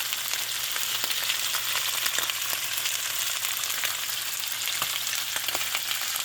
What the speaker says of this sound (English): Make sure you hear that sizzle.